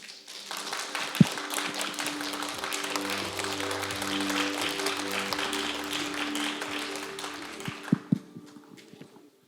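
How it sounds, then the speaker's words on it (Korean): At a Korean peace forum, the audience claps as the session chair and panelists come forward. The applause is fairly quiet and sustained over steady background music, with a couple of sharper knocks. "힘찬 박수 부탁드립니다."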